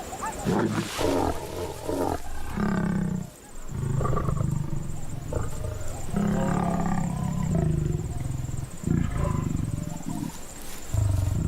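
Lions roaring and growling during mating on the savannah, a loud, continuous series of deep snarls and roars that rise and fall across the whole stretch, with brief pauses between bursts.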